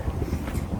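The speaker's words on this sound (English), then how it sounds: "it's so windy" Wind gusting straight into an outdoor microphone on a cold day, a steady low rumbling buffet with broadband rush, loud and continuous throughout with no talk.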